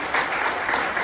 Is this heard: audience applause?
yes